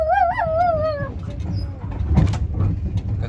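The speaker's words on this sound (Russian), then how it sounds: "Девочка, Мася собака." A dog whines in high, wavering tones for about a second aboard a Trans-Siberian passenger train, then continuous low rumble of the moving carriage carries on with a few faint clicks and rustles.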